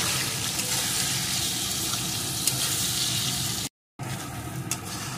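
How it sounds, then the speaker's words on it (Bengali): Spices sauté in hot oil in a pan for a vegetarian banana flower dhoka curry, giving a steady close sizzle. The sizzle breaks off briefly near the end, then carries on. "এখন সমস্ত কিছুকে ভালো করে বেশ কিছুক্ষণ কষিয়ে নেব।"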